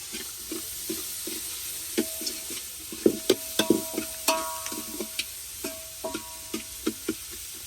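Tomatoes soften in hot oil as a spoon stirs and knocks against the pan in uneven strokes over a low, soft sizzle, with a few sharper clinks in the middle and no one speaking.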